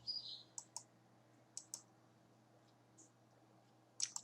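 Computer mouse clicks during Photoshop work, a few sharp isolated clicks, several in pairs, spaced across a quiet room with a low steady hum underneath.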